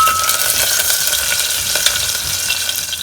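Ginger and a green chili fry in a hot pan, crackling and sizzling loudly and continuously up close, with a few sharper pops.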